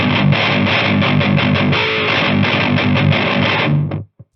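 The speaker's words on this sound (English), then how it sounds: "I think it's given a little bit more of a bite, a little bit more of an edge to it, a little bit more of a grind, which I personally love in my distortion tone" Electric guitar played through a distortion pedal placed in front of the amp, in a low tuning, giving a loud, gritty, continuous chugging riff that cuts off abruptly near the end.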